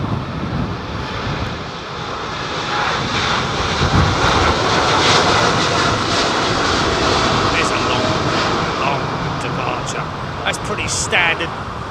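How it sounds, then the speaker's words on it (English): A Boeing 787 Dreamliner departs Heathrow on a windy day, its jet engines roaring steadily and broadly at a moderate distance for the whole stretch, with faint voices underneath. "departure for a Dreamliner out of Heathrow, gotta say."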